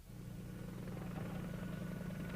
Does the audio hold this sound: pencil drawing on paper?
no